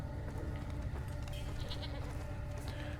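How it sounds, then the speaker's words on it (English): A goat in the video game Far Cry 2 gives a steady, wavering bleat that lasts the full three seconds. It sits over a dense, rumbling in-game ambience, with no talking. "The goat just headbutts the barrel out of the way."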